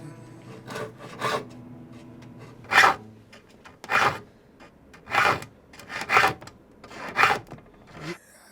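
A hand file rasps across the teeth of a Japanese saw, giving a series of short separate strokes at a slow, uneven pace. The strokes sound close and clear in an otherwise quiet room.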